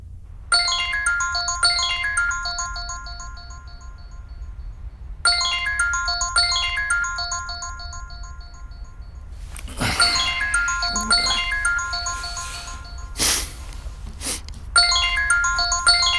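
A phone ringtone plays a repeating electronic melody in a Hindi-dubbed movie scene, sounding in several bursts with short gaps and a brief louder rustling noise in between, no talking over it.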